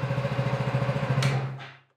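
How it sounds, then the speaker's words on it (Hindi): Motorcycle engine running with the bike in gear but not moving due to a clutch plate fault, a steady low pulsing idle thump close by that then dies away as the engine shuts off. "अभी स्टार्ट है बाइक"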